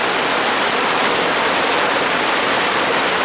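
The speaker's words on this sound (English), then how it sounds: "Pouring very hard. You can just see the water coming off the rain fly." Heavy rain pours steadily onto a Coleman Sundome four-person tent, a dense, loud, unbroken roar of water drumming the rain fly with no voices over it.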